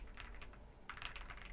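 Typing on Akko Rosewood mechanical keyboard switches, a deep, woody-sounding switch, gives a close run of rapid keystroke clacks with a brief pause and then a denser burst of keypresses.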